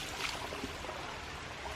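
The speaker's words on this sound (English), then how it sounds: "the water will just pass straight through" Water rushes steadily through a hose coupling with an open ball valve, a continuous close broadband flow and splash with no talking.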